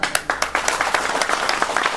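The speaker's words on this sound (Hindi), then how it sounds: "उसका समर्थन यहाँ पे जितने भी लोग पहुंचे हुए सारे लोग ताली बजा करके कर रहे हैं" An audience at a crowded public gathering in Bihar claps in support of a speaker, a dense run of sharp, rapid hand claps, fairly loud and close, with no talking.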